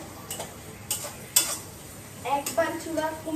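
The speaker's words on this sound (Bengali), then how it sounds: "এখন হচ্ছে নাড়াচাড়া দিয়ে দেবো" Chowmein noodles being stir-fried with capsicum and carrots in a pan: a soft sizzle under brief clinks and scrapes of a utensil, with a few faint clicks near the end.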